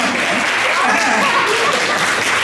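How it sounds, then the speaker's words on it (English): Audience applause after a poetry reading at a science-themed event, a steady dense wash of clapping filling the whole moment at even loudness. "You could do clapping."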